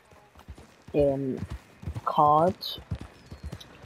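Horse hooves clip-clopping in Red Dead Redemption 2 Online, close and fairly loud. Two bursts of harmonic, whinny-like sound stand out, and someone speaks over them.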